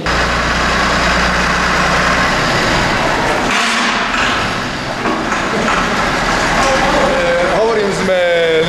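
A tractor engine idles with a low, steady rumble inside the Basilica of the Holy Sepulchre, loud and continuous, with voices audible over it.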